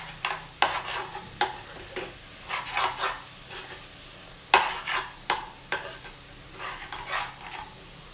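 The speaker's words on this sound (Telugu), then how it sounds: "నెక్స్ట్ ఈ ఎగ్ అంతా కూడా బాగా కలిసేటట్టు మిక్స్ చేసుకోవాలండి." Egg being stirred into thaat kura frying in a pan, heard as a steady series of close, rhythmic scraping strokes of a utensil against the pan over a soft sizzle.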